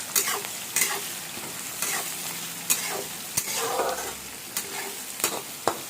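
Chopped onion stirred and frying in a pan for upma, a steady sizzle broken by repeated scraping and clacking strokes of the spoon, close and fairly quiet with no talking.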